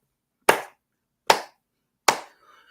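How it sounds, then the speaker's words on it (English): Three sharp, isolated hand claps, evenly spaced about a second apart, close and crisp with silence between them. "this game right here deserves a worthy clap."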